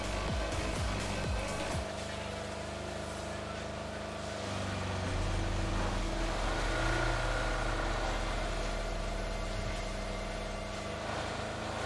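A video game car engine drones steadily with a low, continuous hum that rises slightly in pitch midway and holds at moderate loudness throughout.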